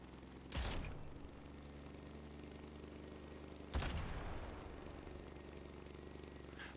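A turret fires in the vehicle-building game Trailmakers, two sharp blasts spaced a few seconds apart, each with a short decaying tail over a steady low mechanical hum.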